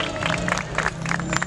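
Applause from an audience at a skull-making contest award ceremony, a steady wash of clapping filling the short moment as the fourth-place winner is called up.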